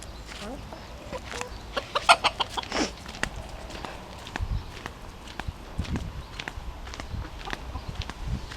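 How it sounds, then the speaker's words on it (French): Chickens and chicks clucking softly nearby with scattered footsteps and rustling, a few sharper chirps standing out early on, faint outdoor background. "Donc voilà les poussins"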